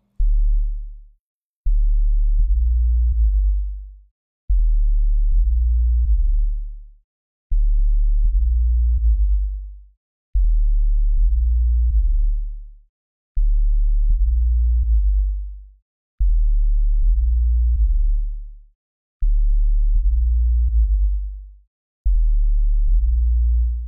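A soloed sine wave sub bass from the Serum synth plays a loud, deep, repeating pattern of sustained notes, with portamento making it glide smoothly between pitches and short gaps between phrases.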